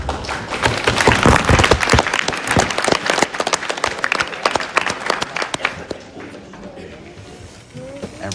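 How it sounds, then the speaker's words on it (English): Audience clapping at the end of a class session, a dense burst of applause with some thumps that thins out and fades over the last seconds. "Everyone clapping."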